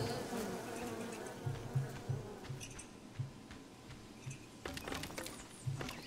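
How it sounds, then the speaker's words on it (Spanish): A swarm of bees buzzing and attacking in the survival crafting game Len's Island: a steady droning hum with repeated louder buzzing bursts, fairly close and without talking. "Había un panal de abejas ahí"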